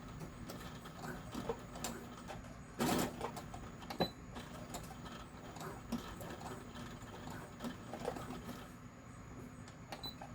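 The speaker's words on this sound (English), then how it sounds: "am going to sew it kind of close to the edge, but not, you know, like not too close" Sewing machine stitching fabric with elastic close to the edge: quiet, mechanical ratcheting clicks and whirring in short bursts, with a sharper clack near the middle and no voices.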